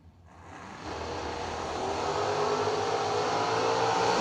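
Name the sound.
drag race cars revving at the start, including Lou Greco's GTO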